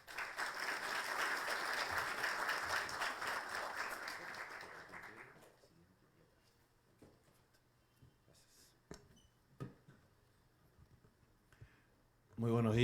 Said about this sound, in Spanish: Recibamos con el aplauso de todos al señor Ministro de Transportes y Comunicaciones, Raúl Pérez Reyes.